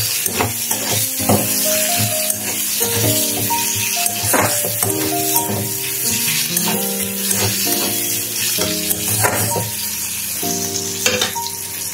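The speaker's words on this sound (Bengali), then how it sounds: "এবার ফোড়ন দেবো কালো জিরে, তারপর ফোড়ন দেবো কাঁচা লঙ্কা" Black cumin seeds and green chilies crackle and sizzle in hot oil in a pan, with spattering pops and occasional utensil clatter over a steady frying hiss.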